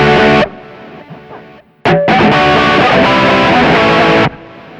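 Electric guitar with heavy distortion playing rock double stops, two notes at a time, loud and close, a sustained chord that breaks off, then a denser run of distorted note pairs ringing on.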